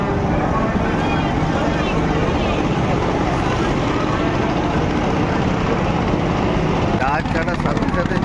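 Passenger launch Sauraj 1 pulls away on the Dhaka to Barisal river route, a broad, steady rumble of engine and water with wind buffeting, loud and continuous, with voices faintly mixed in.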